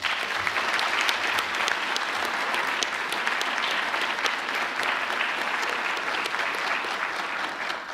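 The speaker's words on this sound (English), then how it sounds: "Could you guys please give them a round of applause?" An audience at a National Honor Society presentation claps for teachers, a dense, steady round of applause filling the whole stretch at even loudness with no talk over it.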